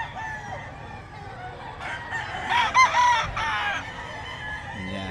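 At a pet market, roosters crow and cluck a few metres away, with one clear crow rising over a low, busy background of market murmur.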